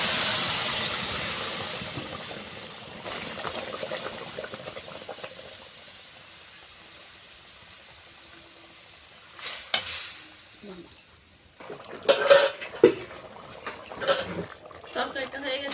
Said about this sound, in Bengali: ফোড়নটা হয়ে গেছে, এখন তরকারিটা ঢেলে দেবো।